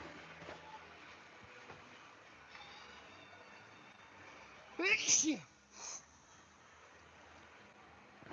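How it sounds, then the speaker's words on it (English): A single sneeze bursts out over a faint mechanical background hum, followed by a short sniff. "Now I'm gonna sneeze."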